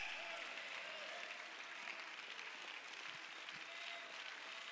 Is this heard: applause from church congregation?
yes